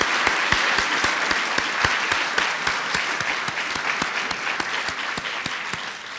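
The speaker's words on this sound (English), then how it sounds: "Now, it's time to applaud all of these great volunteers." Audience applause for volunteers at a library-style Books & Coffee author talk, a dense steady clapping from a seated crowd with sharp individual claps standing out, sustained and fairly loud throughout.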